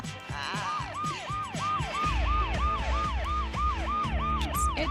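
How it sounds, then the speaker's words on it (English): A police siren wails in rapid, repeating up-and-down sweeps as it passes along a residential street, loud and close over a low rumble of traffic. "I love to watch the police sirens going down and the police going down the street all the time."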